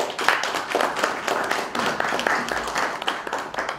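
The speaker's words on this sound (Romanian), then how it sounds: "dacă ne-ați încurajat cu aplauze, vom continua" An audience claps steadily at an outdoor mountain peony festival once a poetry recital ends, a dense mid-distance patter of many hands that carries on without talk.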